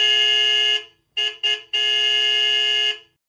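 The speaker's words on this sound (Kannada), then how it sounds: "ಹಾರ್ನ್ ಸೌಂಡ್ ಬರ್ತಾ ಇದೆ" A car horn honks nearby in loud, clear bursts: one long blast, two short quick toots, then another long sustained blast, with no voices around it.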